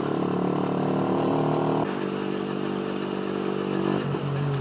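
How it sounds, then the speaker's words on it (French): A four-stroke motorcycle engine runs steadily at idle or low revs, its loud, continuous harmonic drone shifting in pitch partway through, with no talking. "c'est plutôt jouissif le son du 4 temps."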